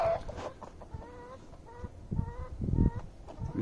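Hens cluck in short repeated calls around a farmyard where a new male duck has been introduced, fairly close and clear with no talk.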